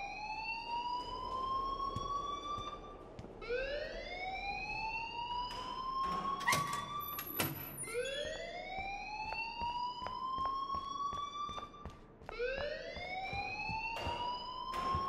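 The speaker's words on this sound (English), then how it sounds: "please turn off that alarm since that's your job" Alarm in the video game Life Is Strange: a repeating rising electronic whoop, sweeping upward again and again, loud and steady throughout, with a few sharp tones cutting in midway.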